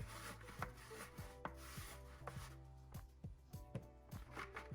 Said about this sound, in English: Using the tongs again to get them nice and loosened up from the bottom there.